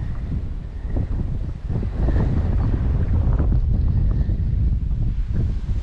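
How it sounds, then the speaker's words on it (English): Wind gusts over a river at St. Marks, Florida during a fishing outing, roaring and buffeting the microphone in a steady, blustery rumble with no voices. "Nothing but wind. Yeah. Audio wind only."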